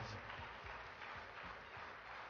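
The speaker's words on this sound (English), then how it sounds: "Come on, everyone, keep on clapping" An audience at an award ceremony clapping, a dense, sustained patter of many hands heard from a distance, with a voice faintly present in the mix.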